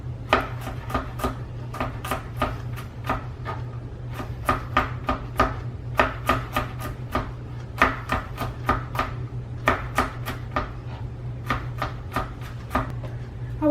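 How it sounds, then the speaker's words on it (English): Garlic being chopped into small pieces on a cutting board, a fast, irregular run of sharp knife taps close up, coming in quick bursts with short pauses under a low steady hum. "We're gonna take our garlic and chop it up really small."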